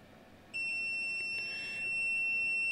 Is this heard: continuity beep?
yes